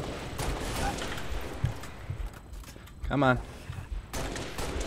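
Gunfire in the Halo Reach video game during a Swat match, rapid bursts of shots over busy in-game noise, with someone speaking briefly in between.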